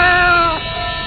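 A white cat meows in a radio drama sound effect, one drawn-out, wavering meow that is loud and close, then trails off into quiet background.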